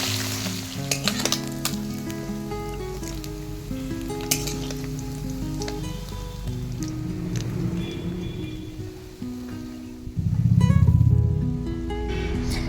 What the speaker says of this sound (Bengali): সেই ছোটো মাছগুলো আমি ভাজা করে নিচ্ছি